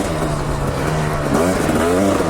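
A trail motorcycle in second and third gear drones steadily close up, its engine note climbing and wavering as the rider shifts and accelerates down a dirt trail.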